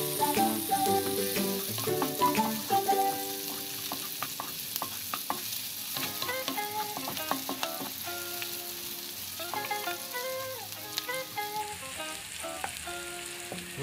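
Onion sautés in a pan with a steady sizzle and frequent metallic scraping and clinking of a spatula stirring, fairly close and without talk.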